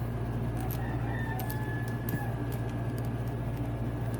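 A rooster named Beavis crows and clucks outside a workshop, loud and near over a constant low hum, while faint clicks and taps of tools sound in the background.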